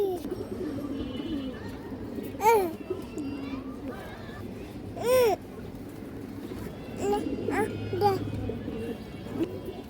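Several silver Bagha pigeons coo close by in rolling, repeated calls, with people talking softly underneath and a constant low background hum.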